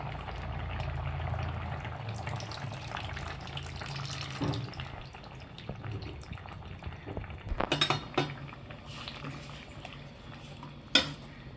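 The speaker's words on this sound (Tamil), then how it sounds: "புளி தண்ணி ஊற்றிட்டு ஒன்றா கலந்து விட்டுருங்க" Tamarind water is stirred into okra curry in a pot, with a soft watery bubbling under clinks and scrapes of a metal spoon against the vessel, including a few sharp knocks near the end.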